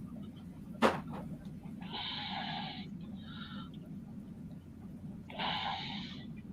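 Slow, heavy breaths sound close to the microphone, two long exhales separated by a pause, after a sharp click near the start.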